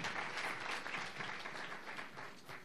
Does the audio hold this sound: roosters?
no